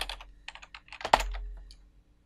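Rapid keystrokes on a computer keyboard while entering commands for a Cisco 7204 VXR router, a quick irregular patter of clicks ending in one heavier key press, close and alone.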